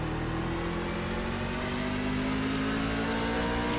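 A race truck's engine drones steadily in the iRacing sim during a NASCAR Class C series race, a continuous loud hum holding a constant pitch with no pauses.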